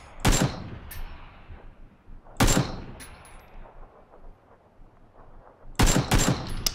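Gunfire in the battle royale game PUBG comes as three sharp, loud bursts of rapid shots spaced a couple of seconds apart, with quieter game ambience between them and no talking.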